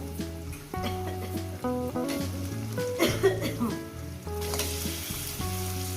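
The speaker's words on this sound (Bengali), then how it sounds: "চিকেনটাকে দিয়ে সুন্দর করে আমি পেঁয়াজের সঙ্গে ভেজে নেবো" Chicken frying with onions in a pan, a steady close sizzle running under background music with tonal notes throughout.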